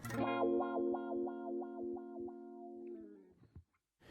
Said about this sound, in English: his playing was innovative on the wah because of his ability not only to play that rhythmic style of wah, which you just heard